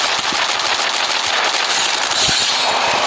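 Rapid bursts of video game gunfire crackle continuously, loud and dense, with a few sharper individual shots standing out from the clatter, in a battle royale match.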